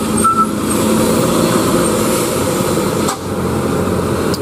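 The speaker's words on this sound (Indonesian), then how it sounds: "Ini truk-truk nih, truk-truk batu bara." Coal trucks passing on a road, a loud continuous rumble of heavy diesel engines with a brief higher tone early on and a sharp knock near the end, no talk.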